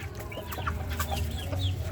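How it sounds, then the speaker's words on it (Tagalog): Several chickens clucking in a backyard, a steady stream of short, overlapping calls over a low background hum for the whole stretch. "Yung mga manok ni Aling Mimay"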